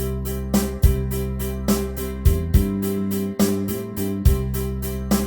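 Yamaha PSR S950 keyboard playing a ballad style on Variation A, with steady bass, chordal accompaniment and regular drum hits in a slow, even groove, without any talking.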